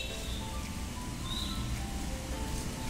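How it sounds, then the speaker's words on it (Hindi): Steady rain falling outdoors, a soft continuous patter at moderate distance with faint bird chirps drifting over it and no talking. "बढ़िया वर्षा होची"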